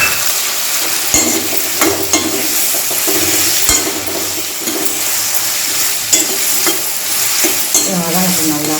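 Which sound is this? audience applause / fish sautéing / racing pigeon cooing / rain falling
fish sautéing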